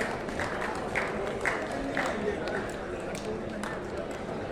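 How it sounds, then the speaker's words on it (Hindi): An audience applauds an award-winning farmer at a ceremony, moderate steady clapping under an announcer's voice, with a few sharper individual claps standing out. "श्री दानाराम चौधरी जी के लिए जोरदार तालियां हो जाएं"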